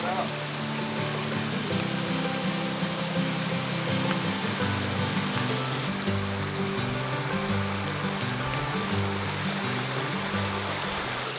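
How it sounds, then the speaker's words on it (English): Small cascading waterfalls in the Adirondacks spill into little rock potholes at low water, making a steady, close rushing and splashing that never lets up, with a low tonal hum underneath. "there's sort of like a lot of small waterfalls into little potholes"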